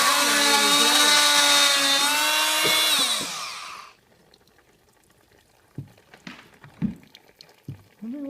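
A power tool cuts through a water line during a kitchen renovation, a loud, harmonic whine for about four seconds that stops abruptly, followed by quieter knocks and scraping clatter.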